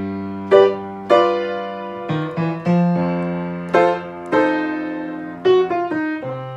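Blues piano turnaround in a slow blues passage: separate struck chords and descending lines at a relaxed pace, each attack ringing and decaying, played alone and clearly with no talking.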